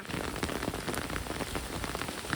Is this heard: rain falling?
yes